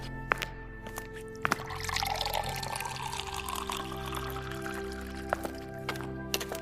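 Water is poured into a glass during a quiet Christmas drinks scene, a faint trickle and splash with a few clinks in a hushed room.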